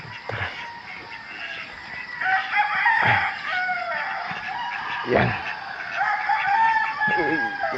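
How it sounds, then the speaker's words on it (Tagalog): Roosters crow loudly and repeatedly in a rural Philippine yard in the morning, their long calls overlapping. Chickens cluck around them, and a voice speaks briefly. "Pag umaga dito, puro manok."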